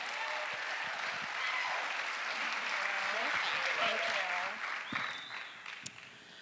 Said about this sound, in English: I'd like to strongly encourage you to give a big round of applause for Leah MORAN